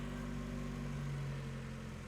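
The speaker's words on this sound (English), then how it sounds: "now this car is kind of loud" A Mazda Miata engine idles steadily in a shop after a fuel line repair, a close, loud and even hum with a low droning tone that holds for about two seconds and then cuts off abruptly.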